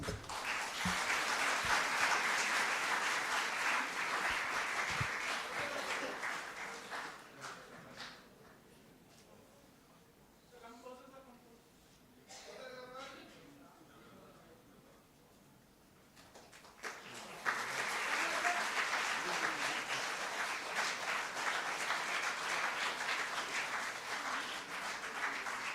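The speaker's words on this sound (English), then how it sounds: "With a good round of applause." Audience at a World Tuberculosis Day event at the Governor's House bursts into sustained applause for a poster release, fading to quieter talk in the middle before loud clapping returns for the final stretch.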